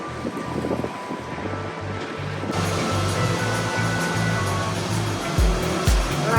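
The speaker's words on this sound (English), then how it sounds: "it looks like we're on the move now because the no-wake zone is past us and we're going a bit faster than we were" A boat speeds up past a no-wake zone off Miami on a windy morning, with a steady rushing wash of water and wake that swells louder partway through, plus a few heavier thumps of waves against the hull.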